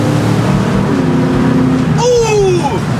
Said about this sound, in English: how this sounds and feel how it runs on 8 cylinders